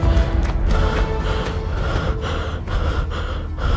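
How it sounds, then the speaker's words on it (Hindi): A man panting hard after running, with rapid, heavy, close breaths repeating through the whole stretch. "हांफते हांफते उसने अपने दोस्त मनीष को सारी बात बताई"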